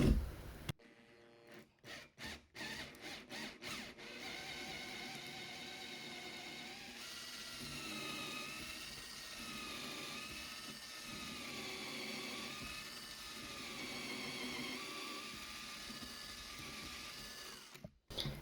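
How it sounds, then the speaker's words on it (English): A power drill whirs steadily for about ten seconds, drilling pocket holes with a Trend 240mm pocket hole jig, its pitch dipping under load, bracketed by clicks and clunks of handling. "So I'm now going to drill out the holes."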